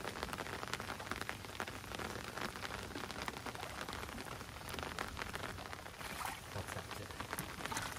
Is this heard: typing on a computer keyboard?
no